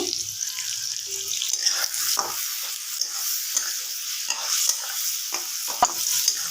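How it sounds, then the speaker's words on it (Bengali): Steady close-up frying sizzle from a pan of onions and potatoes, with occasional scraping and stirring noises, continuous throughout. "পেঁয়াজ আর আলুটা ভাজা হয়ে গেছে"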